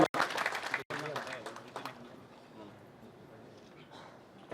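Audience applause at a Bharatiya Janata Party induction event in Assam: a burst of clapping in the first two seconds, then fading under someone speaking over a microphone.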